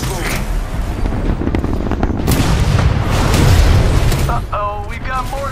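Mortar titan artillery fire in the Titanfall 2 video game: heavy booming blasts and rumbling impacts amid battlefield noise, loud and dense, building to a peak in the middle, with a brief voice near the end.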